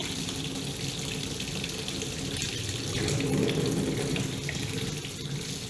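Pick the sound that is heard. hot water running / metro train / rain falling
hot water running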